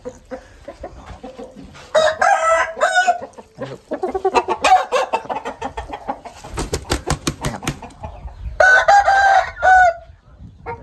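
A yellow fighting rooster crows in several loud, drawn-out calls, with bursts of clucking and scattered noise between them, fairly close.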